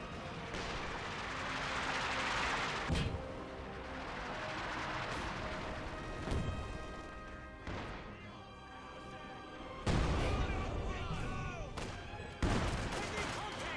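A prolonged barrage in the video game Company of Heroes 2: repeated heavy booming impacts and crashes land over a continuous rumble of battle, with a commentator talking throughout.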